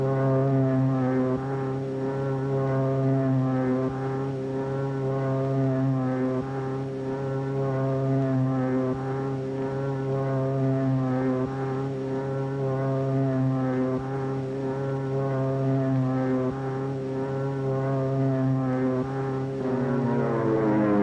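A propeller aircraft taking off, from a 1942 film, drones with a loud steady engine roar and rich harmonic hum that holds throughout and swells slightly toward the end, with no voices.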